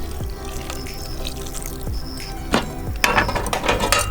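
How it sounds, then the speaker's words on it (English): Water, about a quarter cup, is poured into a pan of pineapple pachadi cooking in a Kerala kitchen, giving a wet splashing pour over a steady background hum with a few utensil knocks near the end. "I'm adding just about 1/4 cup of water."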